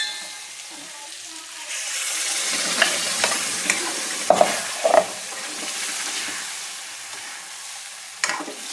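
Drumstick pods and ground black masala frying in oil, stirred now and then; a steady sizzle hiss runs throughout with a few sharp spoon scrapes and knocks against the pan near the middle and end.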